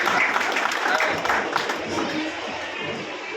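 Applause and crowd noise from an audience at a Marathi film event in Kolhapur, a steady wash of clapping running for the whole stretch, mixed with a loud voice talking over it.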